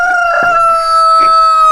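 A rooster crows in a family chicken coop, a single call with strong sustained tones over a couple of seconds, loud and close, with no talking.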